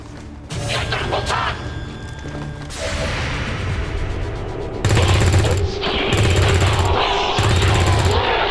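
Gunfire in the XCOM 2 tactical video game, loud bursts of rapid mechanical shots over a droning game soundscape, ending in three repeated heavy volleys with short gaps between them.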